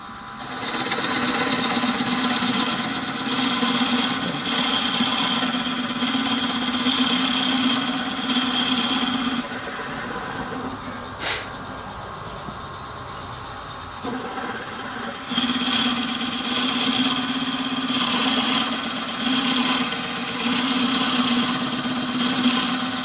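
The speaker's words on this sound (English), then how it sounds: "And I'm going to drill it about 3/4 inch deep." A drill steadily bores a 1/2 inch hole into wood, a sustained whirring grind that dips briefly midway and then resumes at full strength; no one speaks.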